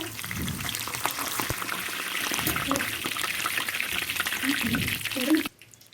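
Curry leaves hit hot oil with frying onions for a Kerala beef and vegetable koottukari tempering, giving a loud steady sizzle and crackle across the whole span. Low bubbling pops rise beneath it, and everything cuts off abruptly near the end.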